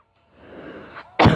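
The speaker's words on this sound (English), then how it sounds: "I'm sorry I had to cough" A single short, harsh cough bursts out at close range after a moment of soft breathy sound.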